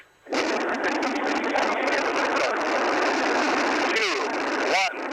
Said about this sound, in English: We have a go for main engine start.